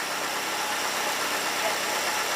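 A car engine idles after a rattle repair, a low steady hum with a faint, even texture, quiet and unbroken with no voices.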